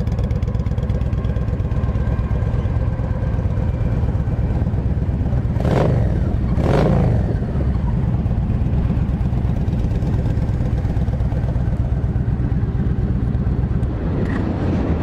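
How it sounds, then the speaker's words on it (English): A 2007 Yamaha V Star 1300 motorcycle idles steadily close by with a low, even thumping rumble, briefly swelling around the middle of the run before settling back to a smooth idle. "Fires right up. Don't hear any kind of rattling or engine noise, no smoke."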